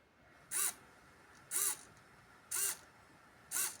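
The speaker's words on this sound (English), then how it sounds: "Finally, let's test the servo motor." An SG90 micro servo driven by an Arduino whirs in four short, evenly spaced bursts about one second apart, each a buzzy gear whine that rises and falls. The sound is close and clear over a quiet background.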